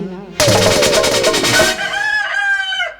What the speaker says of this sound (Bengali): বাড়িতে তো ধাড়ি মুরগির আওয়াজ শোনা যাচ্ছে